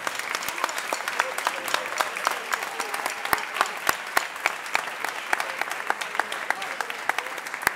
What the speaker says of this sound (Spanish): Un aplauso muy grande para todos los alumnos de iniciación